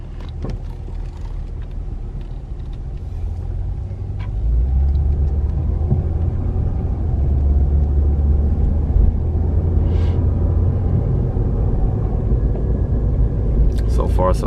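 Steady car engine and road rumble from inside the cabin during a short drive after a door-ajar sensor repair, the rumble rising and holding level, with brief talk over it.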